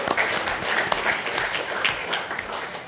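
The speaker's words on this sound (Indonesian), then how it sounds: "Tepuk tangan dulu." An audience applauds at the closing ceremony of a church choral festival in Pontianak, held on a parish church ground. The steady, dense clapping fills the hall for about three seconds.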